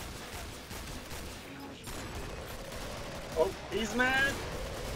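Zed gun fire in the Killing Floor video game on the Biotics Lab map at Hell on Earth difficulty, crackling through dense gameplay noise with a louder burst near the end while players shout over it.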